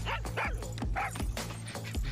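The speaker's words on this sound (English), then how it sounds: "Cute little puppy." Puppy barks and yips from a Far Cry 6 video game trailer, several short sharp yaps in quick succession with a low rumbling score underneath.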